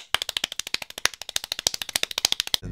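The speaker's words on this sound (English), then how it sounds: "Everybody clap your hands." A church congregation clapping hands in unison, loud sharp claps in a fast steady rhythm of roughly a dozen per second, close and crisp, cutting off abruptly at the end.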